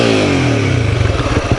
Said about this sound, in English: Give it a rev, see if the microphone picks up the noise.